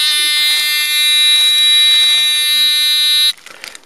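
Electronic buzzer in an Arduino-based mole repeller, giving a loud, steady high-pitched tone for about three seconds before cutting off abruptly, with faint voice-like traces underneath.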